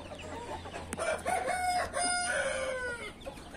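An Indian game rooster crows on a hot day, a long drawn-out call rising and holding before trailing off, fairly close and loud over a faint steady background hum, with no talk.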